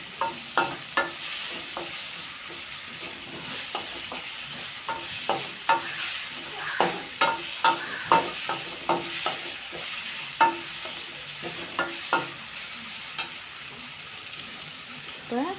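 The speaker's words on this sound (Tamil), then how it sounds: "உப்பு போட்டோன்னா கொஞ்சம் சீக்கிரத்தில் வதங்கும் வெங்காயம் தக்காளியெல்லாம்" Onions and tomatoes sauté in a pan while a spoon stirs them, giving steady soft sizzling with repeated sharp scraping clicks against the pan, close and moderately quiet, with no voices.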